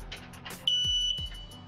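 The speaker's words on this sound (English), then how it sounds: "We would suggest that you test the alarm at least once a week. This could be simply done by pushing this button" A carbon monoxide alarm, pressed at its test button, sounds a sharp, high electronic beep lasting about half a second, close by, amid a couple of soft clicks and handling knocks.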